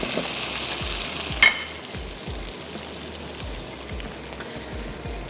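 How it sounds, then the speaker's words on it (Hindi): Tomatoes and onions for Sindhi sehal gosht fry in hot oil with a steady sizzle and crackle, broken by the scrape of a stirring spoon and one sharp clink partway through, with no voices. "सिर्फ उसको हम भून रहे हैं कि टमाटर बहुत अच्छे से मैश हो जाएं"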